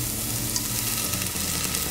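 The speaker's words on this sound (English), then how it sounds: "Nice sizzle." Steady, loud sizzling of vinegar hitting a hot pan while making barbecue sauce, a continuous crackling hiss with no voices.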